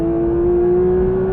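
A GT3 race car engine howls at high revs, a loud steady whine rising slightly in pitch as it accelerates, close and continuous.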